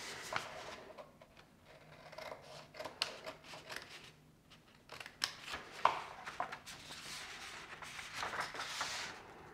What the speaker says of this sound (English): Now go ahead and grab your scissors, and we are going to cut through all of these lines.